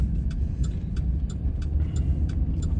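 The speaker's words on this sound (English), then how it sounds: "let's just pull a U-turn here" A car turns around on a lakeside residential road in Cypress Gardens, Florida, its engine humming steadily at close range with a faint regular ticking over the top and no talking.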